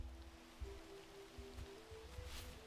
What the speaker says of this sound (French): Quand il pleut.